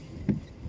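A rowing boat on Phewa Lake gives a single brief, low splash or oar stroke midway through an otherwise quiet stretch.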